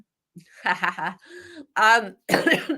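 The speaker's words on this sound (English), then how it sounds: "I've got a bit of a dry cough" A few dry, hacking coughs and a throat clear come in short bursts from one nearby person, separated by brief pauses.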